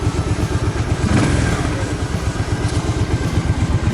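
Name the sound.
motorcycle engine running and revving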